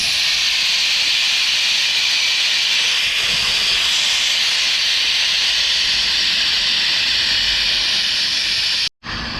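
Compressed air hissing out steadily from an air compressor tank during repair, a loud continuous rushing jet lasting nearly nine seconds before abruptly cutting off.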